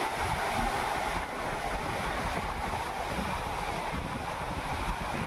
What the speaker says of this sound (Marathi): तुम्ही बघू शकता इथे किती मोठा समुद्र आहे